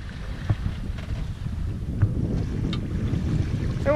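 A sailboat runs under three reefs at about 4 knots with following waves near a hurricane. Steady wind and rushing water wash around the hull, with a few soft knocks, close and continuous.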